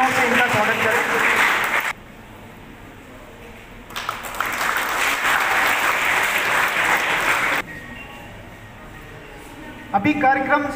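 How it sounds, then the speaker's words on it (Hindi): A crowd at a local event welcoming a student participant bursts into loud clapping in two separate waves, with a speaker's voice heard in the gaps and over the applause. "जोरदार तालियों से इनका स्वागत करें"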